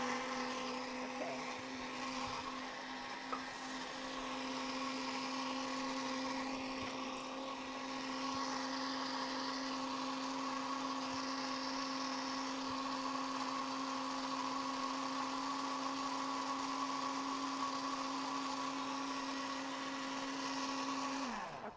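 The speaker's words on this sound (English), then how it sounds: "so you want it pureed nicely" Blender runs steadily, pureeing sweet potato soup, a loud, constant whirring motor drone held for the whole stretch with no voices.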